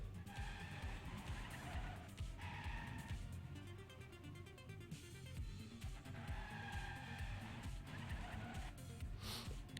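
Race cars in a video game warm-up lap at a gaming tournament, engines droning while tires squeal and skid in repeated bursts, moderately loud and steady, with faint voices underneath.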